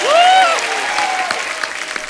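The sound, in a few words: studio audience applause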